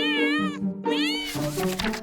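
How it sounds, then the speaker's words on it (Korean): A cat gives two drawn-out meows in quick succession, loud and close, with a soft rough tail at the end of the second call and no talk over it. "바로 이 고양이죠."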